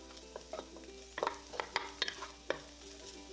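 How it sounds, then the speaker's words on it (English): Chinese sausage, shiitake mushrooms and dried shrimp stir-fried in a wok, with a steady close sizzle broken by several sharp scraping and clinking stirs of the spatula. "Now we're also going to add the shiitake mushrooms, dry shrimp. Stir fry until aromatic for about 2 minutes."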